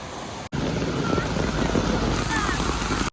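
Floodwater rushes through flooded buildings in Karjat, a loud, steady wash of water noise with wind buffeting the microphone, briefly cut out twice.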